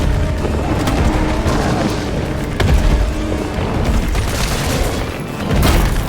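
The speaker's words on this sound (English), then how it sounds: "Offload all these rockets into him." Rockets fired at a boss in the Resident Evil 3 Remake video game: a loud, dense barrage of booming explosions and blasts rolling continuously over several seconds, with no speech.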